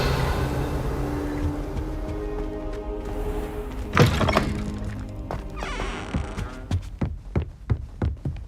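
Casting the Revelio spell in the video game Hogwarts Legacy sets off a sudden magical burst, followed by a run of rhythmic pulsing thumps that quicken and fade, with no talking.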